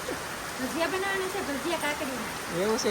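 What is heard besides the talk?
rain falling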